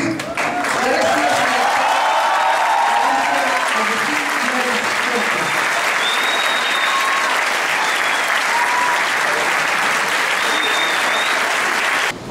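Sustained audience applause at a university engineering accreditation ceremony, loud, dense clapping filling the whole stretch, close and continuous, with faint voices underneath.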